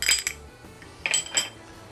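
A spoon clinks against a pot of homemade chicken soup while garlic powder, salt and black pepper are stirred in, a few sharp metallic taps in two short bursts, close and fairly quiet.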